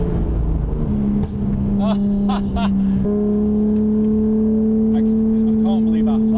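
Nissan Skyline GTR R33 engine drones steadily from inside the cabin, its pitch stepping to a new level as the car changes down on the wastegate, with voices talking over it.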